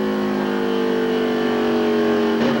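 A NASCAR truck engine is held wide open through a spin with no braking, a loud steady droning roar that holds a constant pitch, shifting slightly near the end.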